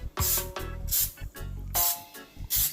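Olive oil cooking spray hisses onto a waffle maker in several short bursts, close and fairly loud, with brief gaps between sprays.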